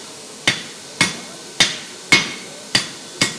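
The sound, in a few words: hammer striking metal at forge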